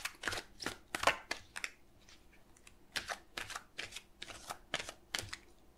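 Tarot cards are shuffled by hand in a series of quick, sharp riffling bursts that come in irregular clusters, close and fairly crisp, with short quiet gaps between them and no talk.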